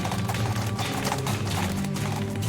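A cow herd in the western game West of Loathing stampedes in a chaotic mass, giving a loud, dense rumble of galloping hoofbeats that pounds steadily for a couple of seconds.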